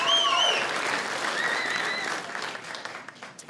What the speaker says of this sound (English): That's something to clap about.